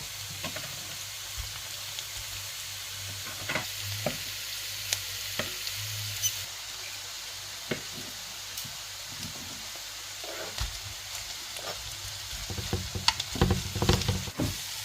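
Potatoes frying in a pot in a home kitchen, a steady soft sizzle with scattered pops and occasional scraping stirs, building to a busier crackle near the end; no talking.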